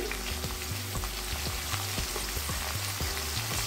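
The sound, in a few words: frying potatoes with ground spice paste in a pan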